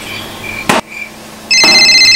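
Telephone ringtone in a comedy sketch, with a loud electronic tone chirping close up, a sharp knock-like hit, then a sustained bright ringing pattern that continues to the end.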